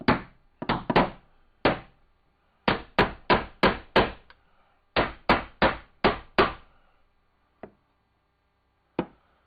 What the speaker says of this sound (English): Come back and just hit it with a hammer.